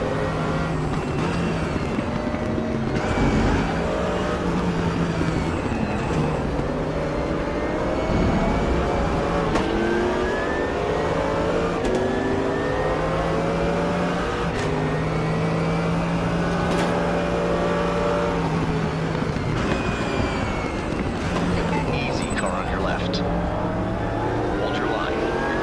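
Several race car engines from the Raceroom sim racing game, including a rival Corvette, rev and shift continuously through corners, rising and falling pitches overlapping for the whole stretch, with a voice talking over them.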